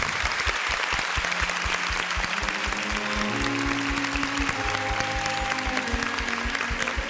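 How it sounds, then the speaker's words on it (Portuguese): A TV studio audience applauds steadily throughout, a dense wash of clapping mixed with rhythmic music playing underneath. "Queria pedir para minha plateia aplaudir o gesto dessa..."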